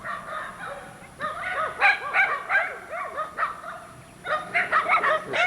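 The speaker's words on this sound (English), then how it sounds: "You can hear anything over the yapping dogs." Several small dogs yap in quick, repeated bursts at a rural property, barking close and sharply with short pauses between volleys.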